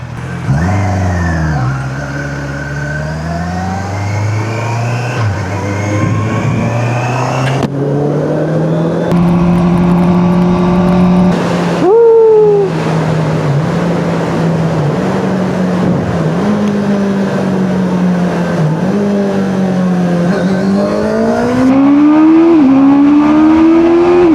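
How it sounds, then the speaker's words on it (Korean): Heavy road traffic on a street near the Jamsugyo bridge and Seongsu area in Seoul, with engines revving and rising and falling as many cars pass close by, a steady loud roar throughout with no speech. "아 차들 많다"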